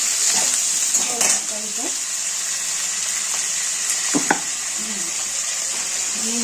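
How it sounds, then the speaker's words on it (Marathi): Chopped onion sautés with a pinch of salt in a pan, giving a steady broad sizzle with a few louder stirring scrapes and clatters scattered through it and no talk over it. "आता हा कांदा आपण थोडासा पटकवून घेऊ आणि कांदा पटकन परतण्यासाठी थोडंसं मीठ टाकायचं"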